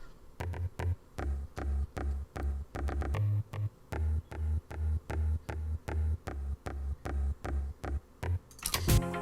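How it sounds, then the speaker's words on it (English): A short, plucky Amiga-style sampled bass from a remix of a track, repeating in a tight, bouncy rhythmic pattern of clipped notes, with a brief brighter burst at the end. "kind of like almost an Amiga sort of short sample time plucky bass sound."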